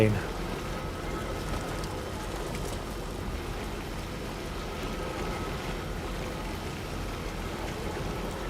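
Steady rainfall in the video game Death Stranding 2, a continuous even hiss of rain on surfaces with a low rumbling undertone, constant and moderately quiet throughout.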